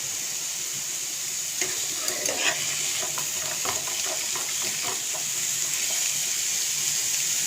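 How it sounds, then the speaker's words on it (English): Raw pumpkin being lightly stirred with tempering spices in a pan for a pumpkin peanut coconut curry, with a steady sizzle and a run of soft scraping strokes in the middle, no talking. "we give it a light stir so that the tempering ingredients will be imparting their flavor in the pumpkin as well"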